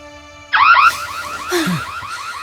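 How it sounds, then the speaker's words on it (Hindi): A home security alarm sounds with a loud warbling electronic siren that starts abruptly, sweeping up and down in rapid repeated cycles, with a quick falling boing-like tone partway through. "शायद से अलार्म उन्हें डरा सकता है।"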